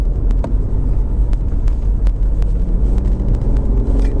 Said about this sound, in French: C'est une sonorité particulière d'un 3 cylindres, mais c'est vrai qu'ici, comme tu dis, il est travaillé